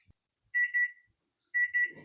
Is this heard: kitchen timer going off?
yes